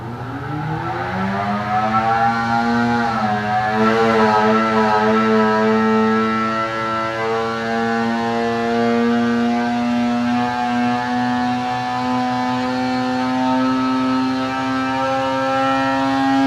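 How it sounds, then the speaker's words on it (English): A 2020 Arctic Cat Alpha Riot snowmobile two-stroke engine with a Bikeman Stage 1 kit screams on a dyno, loud and steady, its pitch climbing over the first few seconds and then holding high and sustained with no talking. "So we can go into a hotter pipe run here."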